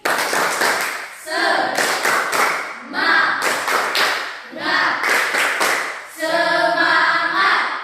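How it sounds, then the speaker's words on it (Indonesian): A school class joins in a rhythmic 'tepuk semangat' spirit clap, four bursts of loud, patterned group clapping with chanting voices between them, fairly close. "Tepuk semangat untuk Lovely"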